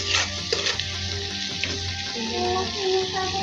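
Cumin paste frying in a pan, a steady loud sizzle with a few clinks and scraping stir sounds, no talking.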